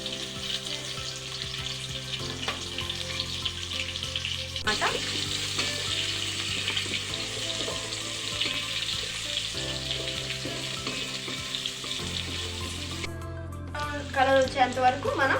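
Onions fry in hot oil in a pot for doni biryani, giving a steady close-up sizzle throughout. A few stirring scrapes and clatters come near the end.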